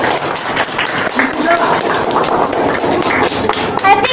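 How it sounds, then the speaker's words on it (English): Loud applause from a university debate audience, dense clapping with thumps and taps layered with crowd voices, sustained at close range for the full few seconds. "Educators, give applause"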